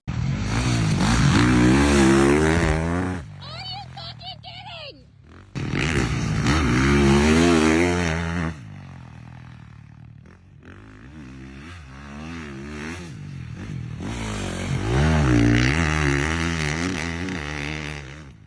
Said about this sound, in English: Here is the most recent clip of him training on the 450.